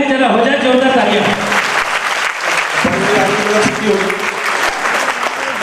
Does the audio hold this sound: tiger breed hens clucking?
no